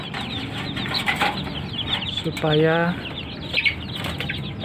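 One-week-old chicks in a rat-proof coop cheep and cluck in a busy, continuous chatter, with one clearer call in the middle, while a person talks over them.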